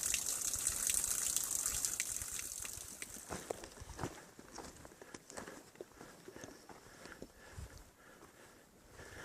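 Spring water gushing steadily from a pipe along the Pacific Crest Trail, a loud continuous rush that eases slightly partway through, with scattered splashes and patter close by.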